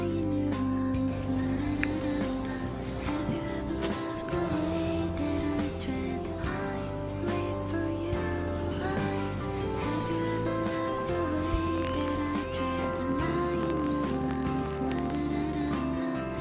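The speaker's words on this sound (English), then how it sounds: "It's so peaceful just listening to the birds singing." Birds singing in a forest near Neubrandenburg, several chirps and warbled calls scattered over a steady insect hum and faint rustling, distant to mid-range, with no voices.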